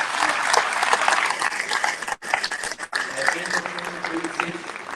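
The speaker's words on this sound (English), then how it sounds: "Let's give a big round of applause." An audience at a CRET 2025 official program applauds in uneven bursts, with two brief drops in the clapping and voices mixed in underneath.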